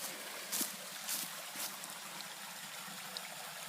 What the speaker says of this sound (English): It's a freshwater underground stream.